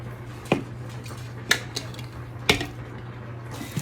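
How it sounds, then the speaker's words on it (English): In a farmhouse kitchen, a lid goes back onto a cooking pot and the pot is set down, making three sharp clanks about a second apart. A soft, steady hum runs underneath. "Now, I'm going to put the lid back on this"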